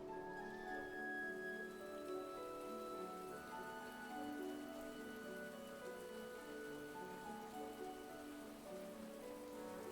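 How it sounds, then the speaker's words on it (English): Steady rain patters on surfaces across a city street, a soft continuous hiss with scattered drops, while faint sustained tones hum beneath it. "And it's raining."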